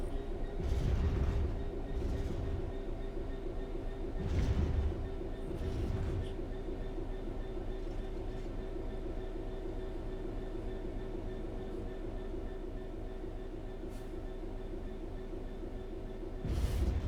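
A train in the video game Train Sim World 4 coasts steadily along level track with a low, continuous rumble and occasional clanks, droning on without letting up.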